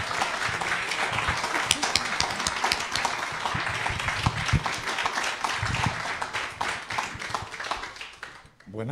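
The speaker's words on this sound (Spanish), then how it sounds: "Yo pido un aplauso para Arturo como líder de Casa Pueblo" An audience at a book talk on Casa Pueblo, the Puerto Rican community organisation, applauds its leader Arturo, dense clapping sustained for several seconds, with some talking mixed in, before it thins out near the end.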